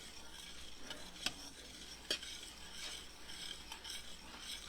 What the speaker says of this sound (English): See how it's still boiling even though I'm stirring?